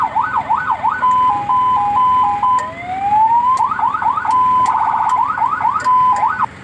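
Siren system on a field kitchen truck cycles through several electronic tones, rapid rising yelps, a steady pulsing tone and a sliding wail, loud and close with no talk.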